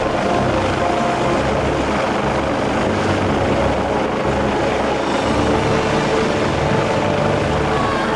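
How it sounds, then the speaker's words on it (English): Loud, steady helicopter rotor and engine roar, dense and continuous throughout, as if hovering close overhead. "when the helicopter moves into position, the downdraft sends Bertsma into a whirling tangle"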